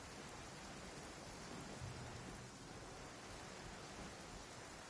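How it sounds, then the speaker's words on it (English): Steady rain in the video game Genshin Impact, a dense, even wash of hiss that holds constant throughout, with no voices over it. "The sound of rain masks the enemy's footsteps."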